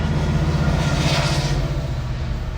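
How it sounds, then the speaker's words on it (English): A train goes by, a loud, steady rumble with a low droning hum and faint rail clatter that fills the whole stretch without talk. "Train going by."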